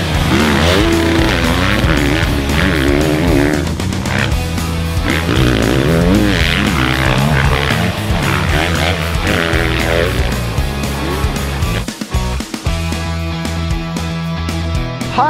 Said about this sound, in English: Today we are getting our first chance to ride the 2023 Husky